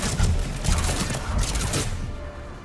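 A warp-and-grenade combo explosion in a video game goes off as a cluster of sharp, crackling blasts in quick succession, loud and close, then tails off into a fading rumble.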